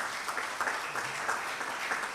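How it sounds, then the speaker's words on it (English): A university audience claps in steady, moderately distant applause, soft and continuous for a couple of seconds. "So big round of applause and gratitude from the audience."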